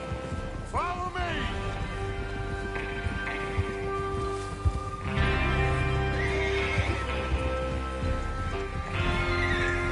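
Horses in the Red Dead Redemption video game, with a clear whinny near the start and further neighs over steady rain, faint hoof clops and ambient game sound throughout.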